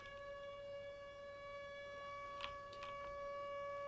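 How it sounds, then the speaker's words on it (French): Distant sirens in the horror game Siren Head: The Arrival, a steady drawn-out tonal wail holding over a low ambient hum, with a few brief faint crackling bursts partway through. "Et des sirènes"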